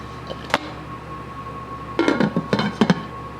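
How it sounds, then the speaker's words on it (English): A lid is set onto a crock pot holding meatballs in cranberry and BBQ sauce: one sharp knock, a pause, then a short cluster of close clinks and rattles as it settles, with no talking. "Okay, now that that's all covered, I'll put the lid on."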